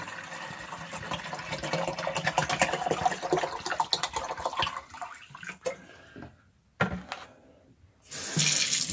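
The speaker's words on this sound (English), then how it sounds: "I'm going to fill up and dump down the drain." A 16-ounce container is filled with a liquid drain cleaner and emptied down a sink drain, a running, splashing pour that thins into gurgles and short gaps before a final burst of flowing water.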